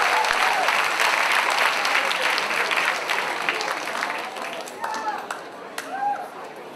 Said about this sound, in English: So everyone give a big round of applause to the YHCC Orchestra.